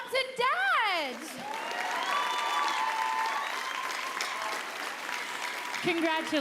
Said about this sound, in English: an extra round of applause for moms and dads